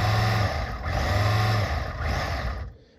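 A custom 1/18-scale RC G.I. Joe jeep with proportional steering and throttle speeds along, its small electric motor whining loudly and steadily with brief surges, then cutting out abruptly near the end.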